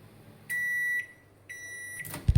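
Microwave oven with a repaired touch pad running a 30-second timer gives two long, shrill electronic beeps separated by a short gap, followed by a soft clunk.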